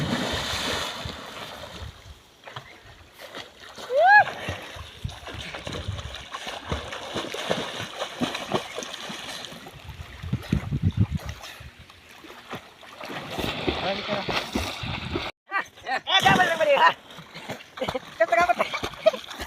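People jump into water and swim at a swimming spot, throwing up repeated splashes and sloshing sounds amid lively talk and shouts nearby.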